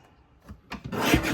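A paper trimmer slices through card prints, a couple of faint sliding rubs followed by one louder, rasping cut lasting about half a second, close and alone.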